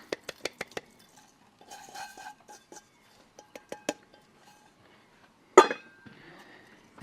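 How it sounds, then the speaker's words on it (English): Sunflower oil and brown sugar being whisked in a bowl, with a quick run of bright clinks against the bowl, then softer irregular swishing and taps and one loud knock, close with quiet gaps between. "and then whisk it together"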